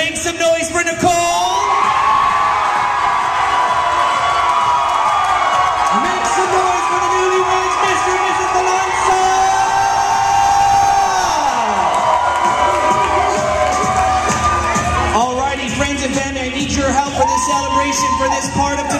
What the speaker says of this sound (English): If you are on Nicole's side of the room, don't be outdone. Make some noise for Nicole.